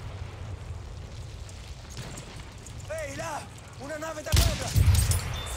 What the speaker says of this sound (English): that shot about 80 meters with a headshot with the fucking shotgun